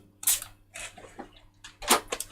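A spray bottle mists onto resin in a few quick, hissing bursts with short pauses between them, close and clear, with no voices over the spraying.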